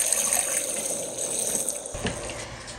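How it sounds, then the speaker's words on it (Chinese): Tap water pours steadily into a large basin holding bitter melons, a close continuous splashing gush that deepens slightly as the basin fills, with no talk. "加入清水"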